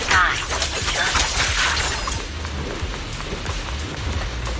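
Heavy rain in the Zenless Zone Zero video game pours down steadily, a dense, close patter of drops on surfaces with occasional sharper splashes and no speech.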